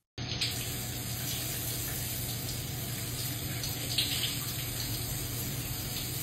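Water running steadily from a shower tap, a constant hissing gush that starts abruptly and continues unbroken, close and even.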